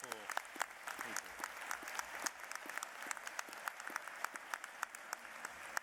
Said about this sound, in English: So another round of applause, please, for the 4 people.